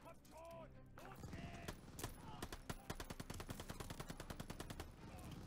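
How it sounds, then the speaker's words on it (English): Call of Duty Vanguard machine gun fire rattles in rapid, evenly spaced bursts that build into a steady stream of shots, fairly near, with a brief voice at the start. "Need to deal with that MG!"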